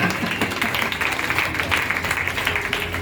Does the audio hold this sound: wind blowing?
no